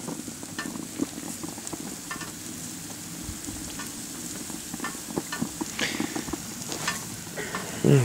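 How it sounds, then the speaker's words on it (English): Steady crackling sizzle of food frying with olive oil on a hot Himalayan salt block on a grill, close and continuous with small pops scattered throughout. "You can hear it sizzling."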